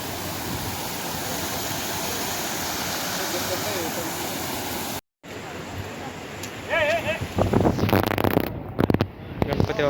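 Plentiful water flows in a village stream in the Konkan countryside, a steady broad rush for several seconds that cuts off briefly, then returns more faintly under voices and scattered clatter.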